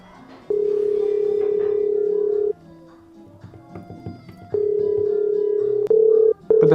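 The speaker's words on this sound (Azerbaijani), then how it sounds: "Niyə götürmədi ki telefonu?" A telephone call rings out unanswered: a steady ringback tone sounds in long repeated bursts separated by quiet gaps, clear and close on the line, with faint background noise between the rings.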